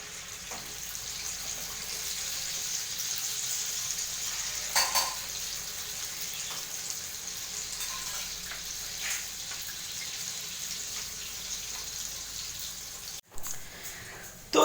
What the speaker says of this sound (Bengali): ধুসকা ভাজা চলছে